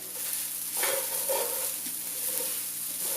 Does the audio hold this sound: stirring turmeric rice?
yes